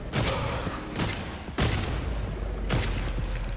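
Hand cannon gunshots in the Redfall video game, fired at a vampire: four loud, sharp booming shots spaced about a second apart, each with a short echoing tail over steady game background noise.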